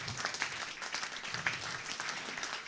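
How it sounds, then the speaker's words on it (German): Steady, moderately distant applause from the audience at a mayoral candidates' debate in Ohrdruf. It is a continuous patter of many hands clapping together, with no speech over it. "Wir wollen mal der Frau Hopf einen Beifall klatschen"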